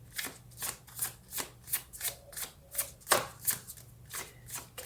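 Tarot cards are shuffled in quick, rhythmic riffling bursts, about a dozen crisp flutters close by with no speech.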